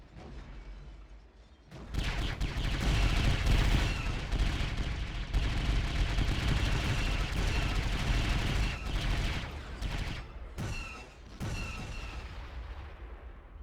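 Sustained battle gunfire in the Star Wars: Galaxy at War mod on Jakku, with AT-ATs and AT-STs assaulting trenches: dense, loud rapid shots and booms rolling continuously, with brief drops in intensity near the end.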